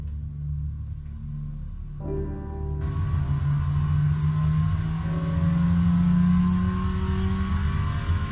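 A classic Mini Cooper S engine running on a dyno in a workshop test booth, idling with a low steady hum, then stepping up in revs in stages to a louder, sustained drone with rising whining tones, no talk.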